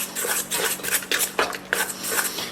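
Spoon scraping and clinking against a bowl while mixing a thin bread dough or thick batter made with a reused preferment, in repeated close strokes with short metallic knocks and no talk.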